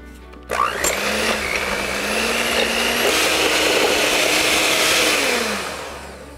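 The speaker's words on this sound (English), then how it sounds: "we're starting with 1 stick of organic butter, and we're gonna start out just by creaming it" An electric mixer or blender creams a stick of organic butter, whirring up with a rising pitch after a clunk at the start, then running steadily and close before winding down at the end.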